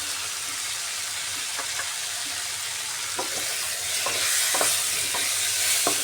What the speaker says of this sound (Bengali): তিনটে চেরা কাঁচা লঙ্কা দিয়ে দিচ্ছি